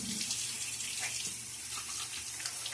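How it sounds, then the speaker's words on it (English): Water splashes briefly from a running tap at a sink between shaving passes, a steady close hiss and patter of flowing water with no talking. "A little quick splash of water."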